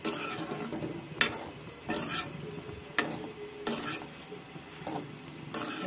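A spoon stirring brinjal fry with salt in a pan: repeated scraping and clinking strokes against the metal at an irregular rhythm, close and fairly clear, with no talking.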